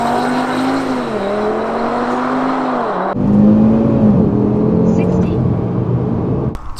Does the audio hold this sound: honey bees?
no